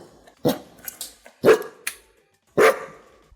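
A dog barks several times in sharp, loud bursts spaced unevenly, close by, with no talk over it.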